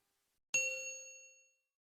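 A single bright notification-style ding rings out clearly at close range, then decays smoothly over about a second into silence, with no voices present.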